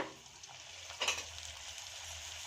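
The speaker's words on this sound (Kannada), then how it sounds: "ಎಣ್ಣೆ ಕೂಡ ಚೆನ್ನಾಗಿ ಬಿಸಿಯಾಗಿದೆ ಇವಾಗ ಪೂರಿನ ಹಾಕ್ಕೊಳ್ಳೋಣ" Poori dough dropped into well-heated oil sets off a steady close sizzle, with a brief louder burst of bubbling about a second in before it settles back to an even frying hiss.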